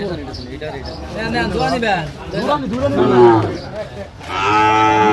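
Sahiwal cattle low repeatedly at a busy livestock market in Cumilla, with several drawn-out, loud moos overlapping one another and crowd chatter beneath them.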